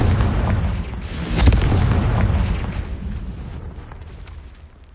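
A Confringo fire spell detonates in Hogwarts Legacy combat with a deep booming explosion at about one and a half seconds, close and loud, its rumble slowly fading over the following seconds.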